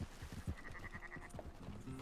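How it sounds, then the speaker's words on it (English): Sheep bleat in Red Dead Redemption 2, a short run of fairly close bleating calls over rustling game ambience, with no talk. "Come on, sheeps. Get moving."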